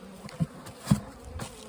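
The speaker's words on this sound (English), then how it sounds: "So many bees." Bees buzz around an opened hive box on a frosty late-season day, a faint, close hum with a few louder buzzes as individual bees pass by.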